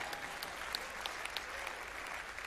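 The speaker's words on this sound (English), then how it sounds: "Y'all can clap for that" An audience at a talk claps together in a soft, distant round of applause, with individual sharper claps popping out of a steady patter that continues for the whole moment.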